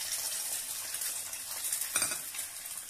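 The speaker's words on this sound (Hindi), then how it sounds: "इसको फ्राई कर ले रहे हैं" A broken egg frying in a pan gives off a steady, soft, hissing sizzle, with a faint scrape or stir near the middle.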